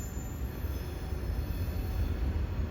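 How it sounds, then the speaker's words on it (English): A Norfolk Southern mixed manifest freight train rolls past heading west, a steady heavy rumble of wheels and cars on rails with a faint high squeal, close and continuous throughout. "That train right here is heading west."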